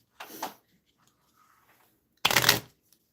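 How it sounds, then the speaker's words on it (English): Two brisk bursts of playing cards being shuffled, close and crisp, separated by a quiet pause. "Is this shuffling super loud?"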